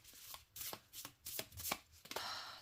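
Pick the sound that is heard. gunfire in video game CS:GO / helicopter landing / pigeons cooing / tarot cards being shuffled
tarot cards being shuffled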